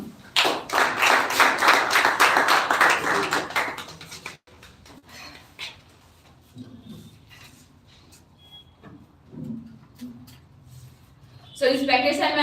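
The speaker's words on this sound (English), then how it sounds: "So please welcome with a huge round of clap for Miss Rakhi." An audience at a school speech event gives a dense round of clapping for about four seconds, which then stops, leaving quieter room sounds with a few scattered thuds.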